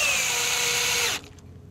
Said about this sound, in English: I'm going to drive some three inch screws into that to help fix that board together